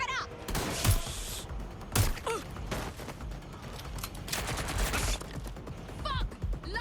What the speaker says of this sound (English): We've got gunfire.